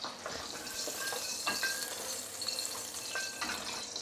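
Ghee hisses softly in a pan while a wooden spoon stirs it, a steady sizzle with a few light scrapes and taps of the spoon.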